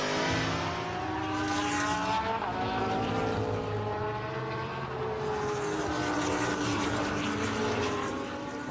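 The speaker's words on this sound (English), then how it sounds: "It's on board with Jules Gounon then, the Callaway Competition Corvette." Onboard engine of the Callaway Competition Corvette C7 GT3 race car at the Lausitzring in ADAC GT Masters racing, a loud sustained roar with shifting pitch as it accelerates and changes gear, steady throughout with no talk.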